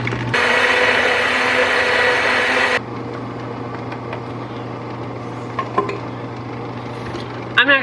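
A blender whirring through a green holiday smoothie, a loud steady motor roar for about two and a half seconds that cuts off abruptly, followed by a low hum and a few light clicks and knocks.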